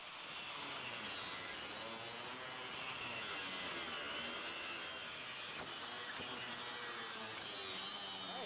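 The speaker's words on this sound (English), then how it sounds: "we'll just grind it right on down" Continuous high whine of a power grinder grinding down welds on an Audi coupe GT body being built into a Sport quattro replica, steady and close for the whole stretch with rasping metal texture and no pauses.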